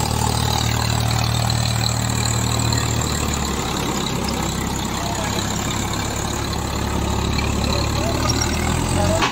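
Engine of a 55 HP 855 tractor running in reverse, a steady loud rumble with a continuous low hum throughout and no pauses.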